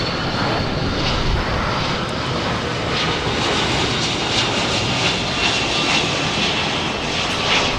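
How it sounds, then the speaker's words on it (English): A Boeing 747 jet at LAX gives off a steady, loud roar of engine noise, a broad continuous rumble that holds evenly throughout with no voices over it. "here comes another 747"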